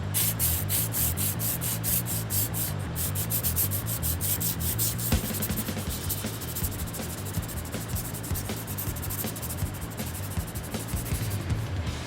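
Continuous rough rubbing of sandpaper over primer on a car body, steady back-and-forth strokes, close and loud throughout.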